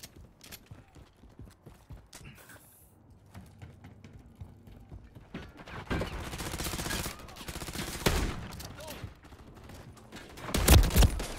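Gunfire in Call of Duty, bursts of rapid shots and scattered single cracks that grow louder and denser toward the end, with voices speaking over the fighting.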